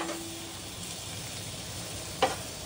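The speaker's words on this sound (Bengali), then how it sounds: "বিরিয়ানি পেঁয়াজ ভাজছি সবে" Onions frying in a pan for biryani, a steady low sizzle throughout with one sharp clink of a utensil near the end.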